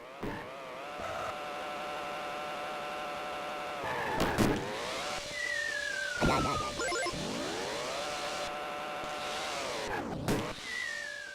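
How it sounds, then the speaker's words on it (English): Micro Machines Turbo Tournament 2 racing game on the Mega Drive, buzzing synthesized engine whines rising and falling as tiny cars race, with sweeping pitch dives, squealing slides and chiptune tones, steady and loud throughout. "here's some Micro Machines Turbo Tournament 2."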